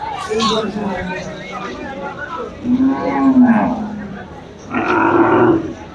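Cattle lowing at a Khulna Qurbani livestock market, with two or three deep, drawn-out moos, one long and rising in the middle, sounding close over the steady murmur of people talking nearby.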